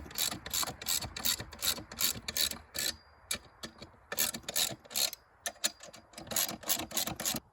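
A ratchet tightens 1.5-inch bolts with locking nuts on the handle of an Earthway 2600A Plus seeder, giving loud, close bursts of rapid clicking that repeat with short pauses between them.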